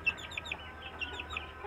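Ayam kampung and ayam Bangkok chickens cluck in a rapid, close run of short, bright calls over a low background hum.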